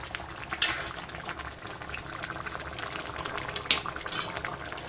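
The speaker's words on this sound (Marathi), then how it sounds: "चांगलं हलवून घ्यायचं असं आणि पाच ते सात मिनिट आपल्याला मंद आचेवर शिजून घ्यायचं आहे" Potato curry (batata rassa bhaji) with crushed peanuts simmers on a low flame, giving a soft, steady bubbling hiss with a few sharp utensil clinks near the start and end, and no talking.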